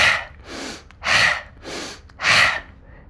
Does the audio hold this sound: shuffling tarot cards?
no